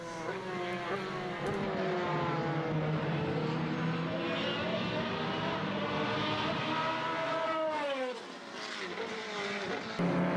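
Formula BOSS single-seater race cars at an Irish circuit, engines screaming continuously at high revs with rising and falling pitch as they pass down the straight, loud and close, with a brief dip and gear change near the end.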